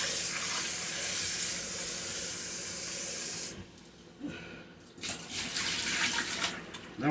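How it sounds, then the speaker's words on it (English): Water from a tap rushing into a cooking pot to rinse it: a steady loud hiss that cuts off, followed by sloshing and splashing as the pot is handled. "Give your pot a quick little rinse."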